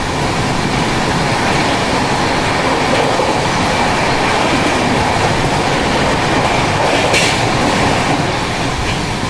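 Rajdhani Express, running from Bangalore to Delhi near Bhopal, rolls steadily along the rails with a continuous loud rumble and wheel noise, sounding close by and alone with no voices.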